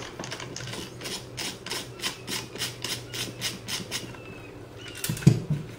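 Screws holding the motor in a SureShade shade drive are taken out, giving a quick, regular series of faint clicking ratchets up close, then a short pause and a louder knock of handling.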